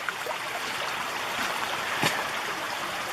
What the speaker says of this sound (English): the river cutting over against this bank, exposing all the tree roots